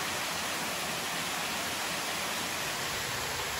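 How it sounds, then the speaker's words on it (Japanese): A waterfall pours beside a spacious open-air private hot spring bath at Tanohara Onsen in Aso, giving a steady, unbroken rushing hiss with no pauses, alone and without voices. "流れ落ちる滝の音が、心地よいですね。"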